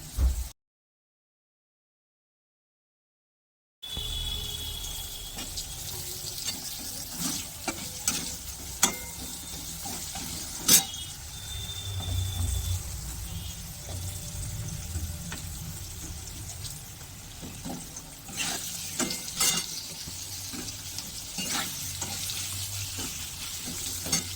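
Round potato slices frying in oil: after a brief silent gap, a steady close sizzle runs throughout, punctuated by frequent scraping and clattering stirs in the pan.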